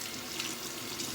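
Steady running water from a tap rinsing shaving soap off a shavette razor, a continuous close hiss with no voices.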